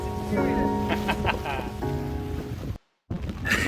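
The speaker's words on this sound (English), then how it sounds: "So it's hissing of rain at the moment" Rain on a Dufour 31 sailboat, a steady broadband hiss filling the background with a brief dropout near the end, under voices and tonal sounds.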